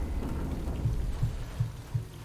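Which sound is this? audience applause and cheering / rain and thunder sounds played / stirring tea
rain and thunder sounds played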